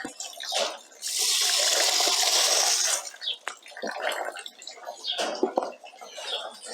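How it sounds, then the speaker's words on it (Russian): Excess water poured out of a kazan splashes and gushes in a loud two-second burst, followed by lighter trickling, drips and clinks of metal. "воду лишнюю выливаем."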